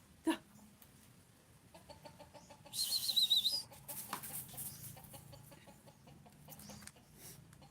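A chicken clucks in short bursts against a quiet outdoor farm background, with a brief flutter of activity midway and faint sounds around.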